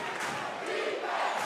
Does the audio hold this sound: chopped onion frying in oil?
no